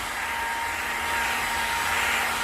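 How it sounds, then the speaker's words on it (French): A heat gun blows steadily on the glued badge of an Audi Q7, a constant, loud airflow whir with a faint high whine. It holds even, with no pauses and no voices. "ce qu'on va faire, c'est qu'on va chauffer au décapeur"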